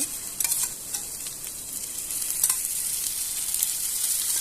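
Coriander bhakri flatbread frying in oil on an iron pan over a high flame, a steady close sizzle with light crackles throughout, no talking.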